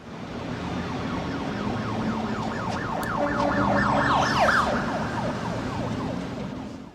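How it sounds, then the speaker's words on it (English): Police siren from the film They Live, a rapid rising and falling wail that swells louder over a few seconds amid steady city traffic rumble, with no voices. "Note the use of a police siren when he first sees his large view of the city dominated by hypnotic signs."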